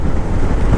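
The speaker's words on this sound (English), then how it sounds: "It's a very windy day today" Strong wind buffets the microphone in a loud, continuous low rumble, gusting unevenly with no voices.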